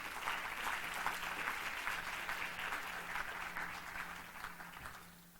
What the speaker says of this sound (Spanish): Damos un aplauso en lo que suben nuestros invitados